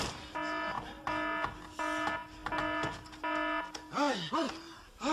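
A house burglar alarm goes off unexpectedly, sounding in regular loud electronic beeping bursts that repeat several times, followed by a voice exclaiming over the end.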